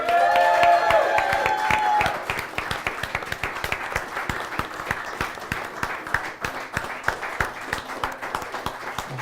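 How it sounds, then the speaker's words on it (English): Audience claps for the cast and crew of a fantasy tabletop show, loud cheering at first giving way to a thinner, steady round of individual claps. "give one last round of applause to our entire cast and crew"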